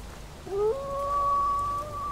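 A dog howls in an indie horror video game, one long rising then sustained wail over a low rumbling background.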